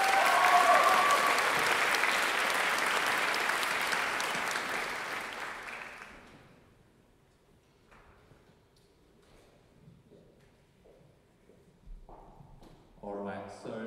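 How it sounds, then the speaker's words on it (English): Concert audience applauding, a loud wash of clapping that fades out after about six seconds, leaving a quiet hall with scattered small knocks and shuffles and then brief talk near the end. "So please, another round of applause from Carl from Cyrus Vision."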